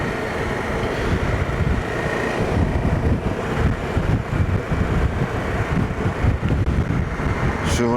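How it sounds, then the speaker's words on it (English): Steady roaring wind buffet through a helmet visor while riding a KTM 1290 Super Adventure S motorcycle, loud and continuous with low rumbling gusts throughout. "I can feel the wind blast now coming through the visor."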